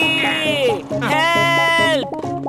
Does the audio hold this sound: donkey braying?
yes